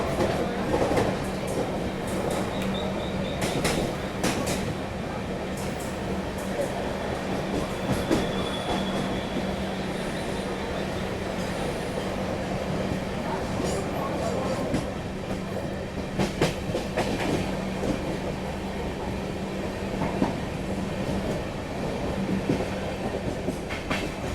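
Mumbai–Nagpur Duronto Express accelerating out of Dadar station, a loud continuous rumble of rail wagons with rhythmic wheel clatter and occasional squeals, heard close and steady throughout with no talk.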